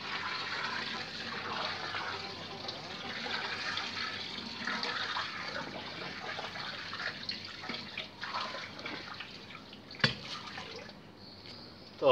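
Water pours steadily into a bucket for curing rocks with citric acid, a continuous gushing splash that stays close and fairly loud, ending with a couple of sharp knocks.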